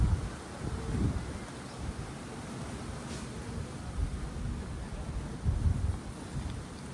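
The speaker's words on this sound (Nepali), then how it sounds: "यस्तो मिठो हावा चल्छ।" A gentle breeze blows through a village while someone sits under a tree beside harvested rice fields, making a soft, steady rush with faint rustling and low gusty buffets on the microphone and no voices.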